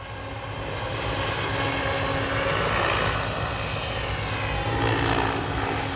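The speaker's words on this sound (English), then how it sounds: "For instance, now bringing the helicopter back to us." A large remote-controlled model helicopter flies back toward the pilot, its steady whirring rotor and engine drone rising slightly in volume and holding continuous for several seconds, with no talking over it.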